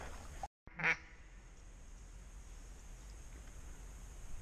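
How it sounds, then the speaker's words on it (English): A brief burst of mallard duck quacks from birds flying straight overhead during a hunt in Georgia, heard once near the start over a steady outdoor hiss. "That group of mallards just came back over, straight over our heads."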